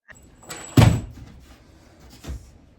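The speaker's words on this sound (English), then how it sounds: "install the Omlet automatic chicken door" Omlet automatic chicken coop door shutting, with a soft slide and then a solid thunk close by, followed by a fainter knock about a second and a half later.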